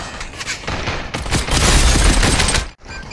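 Rapid bursts of automatic gunfire in the VR shooter Population One, a loud sustained fusillade that builds, cuts off abruptly, then resumes briefly.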